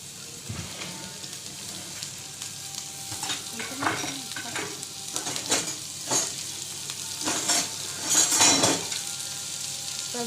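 Samosa masala filling being stirred and fried in oil in a pan, with scraping stir strokes over a steady sizzle, growing busier and louder toward the end; no talking.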